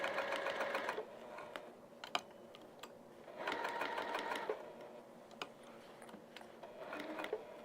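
Sewing machine stitching a vinyl project bag, running in three loud bursts of rapid mechanical whirring with pauses and faint ticks between, close and alone without talk.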